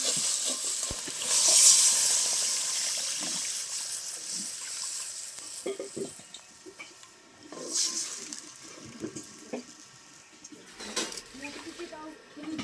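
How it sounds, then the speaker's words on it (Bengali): Water is poured into a pan of fried spice paste for a tilapia fish curry, setting off a loud hissing sizzle that fades into softer bubbling and stirring scrapes, with a voice speaking over it. "এবার আমি পরিমাণ মতো জল দিয়ে দেবো"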